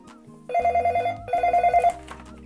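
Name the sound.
telephone ringing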